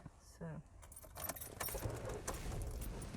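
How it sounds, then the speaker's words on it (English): Car keys jangle and scrape in the ignition at close range, a quick metallic rattling that carries on for several seconds, with a voice speaking briefly near the start. "Twist the keys around a bit more."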